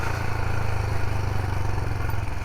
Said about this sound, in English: that's 30 mile an hour now, and the engine's just plopping along